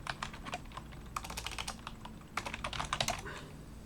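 Quick bursts of clicky keystrokes on a computer keyboard, close and fairly quiet, with short pauses between the flurries of typing.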